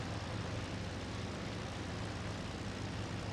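Aircraft engine in the flight sim IL-2 Sturmovik, during a low reconnaissance flight with flaps down: a steady, unbroken droning roar, fairly quiet and with no voices.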